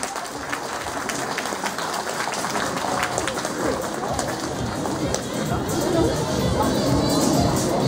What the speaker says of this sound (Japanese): 皆さんどうぞ拍手をお願いいたします。